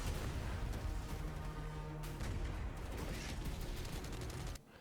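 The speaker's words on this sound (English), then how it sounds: "he's firing that RPG off with little to no recoil" An RPG fired amid combat in the Hell Let Loose: Vietnam game trailer: a steady barrage of gunfire, booms and crashing blasts, with a hum underneath, that stops abruptly near the end.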